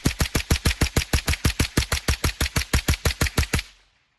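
A .22 LR firearm fires about twenty rapid, evenly spaced shots in a steady burst that stops abruptly, each report loud and sharp, with no voices.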